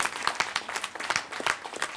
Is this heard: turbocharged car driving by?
no